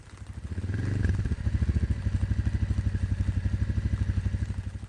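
A motorcycle engine revs up close, then settles into a rapid, steady rhythmic thumping and clatter, loud and alone without speech.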